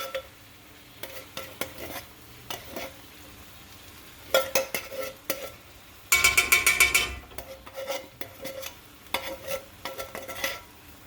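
Spooning coconut milk into a sizzling pan for chicken curry: spoon scrapes and taps against the pan, a brief burst of loud frying sizzle in the middle, then more scraping.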